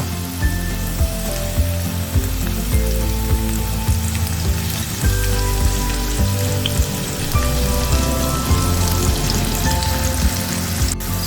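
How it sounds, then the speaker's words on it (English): Steady crackling sizzle of onions frying in hot oil, continuous and close, with occasional scraping stirs and no voices. "So now my onion is finished frying."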